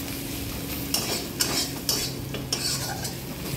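Green chilli, ginger, cumin and coriander powder fry in a pan under a soft sizzle, broken by about five distinct scraping strokes of a spoon against the metal.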